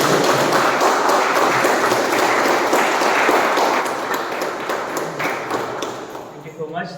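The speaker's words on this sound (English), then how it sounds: "Huge round of applause, guys, for all the" Audience applause for speakers at a Toastmasters club meeting, a dense wash of many hands clapping close and loud, gradually thinning and fading out over several seconds.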